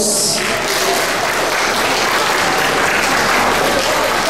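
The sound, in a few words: applause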